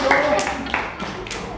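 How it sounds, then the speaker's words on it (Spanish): A classroom of students applauding group 1 after a debate exercise, a short, uneven patter of clapping with a few sharper slaps, close by and brief. "un aplauso para el grupo 1"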